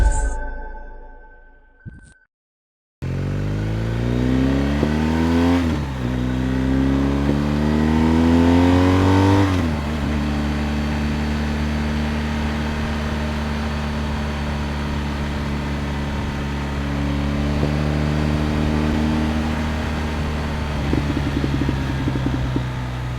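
A BMW R1250GS motorcycle engine revs and pulls through rising gears on backcountry roads in New Jersey, loud and steady with a deep droning exhaust note, after a short quiet start.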